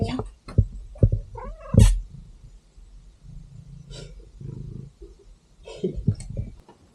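A cat met at night on a trip in the Dolomites, Italy, making soft meows and purring sounds close by, with a person speaking to it in between.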